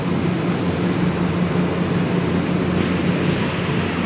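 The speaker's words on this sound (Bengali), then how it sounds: "এটা হইলো কাটিং মেশিন, এটা মাল কাটিং করে" A metal cutting machine runs on a factory floor, giving off a loud, steady roar of broadband mechanical noise that holds unbroken from start to finish.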